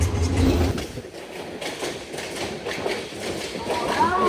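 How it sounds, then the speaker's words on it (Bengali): An express train rumbles and clatters steadily as it rolls into Mymensingh Junction railway station, with rhythmic wheel clicks, a brief horn-like tone near the end, and voices in the background. "ঢাকাগামী আট শূন্য শূন্য ডাউন জামালপুর এক্সপ্রেস ট্রেনটি এখন ময়মনসিংহ রেলওয়ে জংশন রেল স্টেশনে প্রবেশ করছে"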